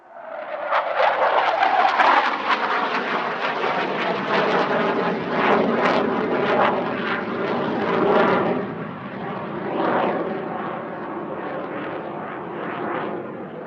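A Swedish Air Force J-32 Lansen jet attack aircraft flies past at an airshow, its loud, sustained roar holding steady for the full pass with only gentle swells in level.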